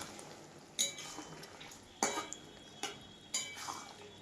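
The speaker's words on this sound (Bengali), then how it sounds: "এবারে একটুকু এটাকে আমি চালাবো।" A spoon stirs fish curry in a cooking pot, with four sharp metallic scrapes and clinks spaced unevenly over a low, faint simmering background.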